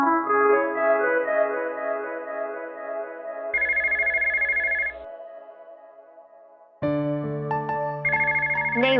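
A telephone ringtone plays repeatedly and goes unanswered, a clear electronic melody that stops and starts again in repeated bursts with no voices over it.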